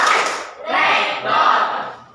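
Classroom students clapping a rhythmic clap pattern together, three short bursts of group clapping, fairly close and loud, with a few voices mixed in.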